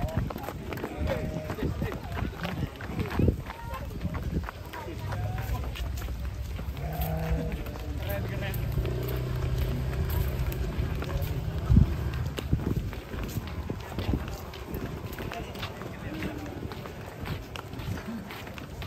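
Cattle racing on a farm while being loaded onto a truck, with a busy patter of hooves close by, mixed with animal noise and people talking over it.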